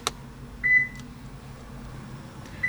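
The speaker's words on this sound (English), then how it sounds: "and then touch the engine switch with the old key. That'll beep." A car chimes when the engine switch is touched with the old key during key code registration. Two short electronic beeps sound clearly in a quiet interior, separated by a pause of about two seconds.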